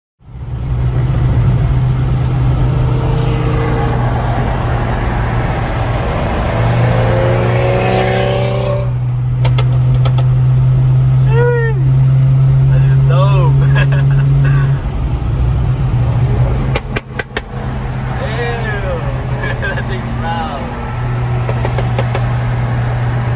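A BMW F10 535i and an E93 335i, both with the same inline-six engine and loud exhausts, rev hard in turn, with sustained roaring revs, sharp blips and crackles up close and some talking under the engine noise.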